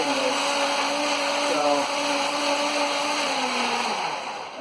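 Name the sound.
blender blending kale and donuts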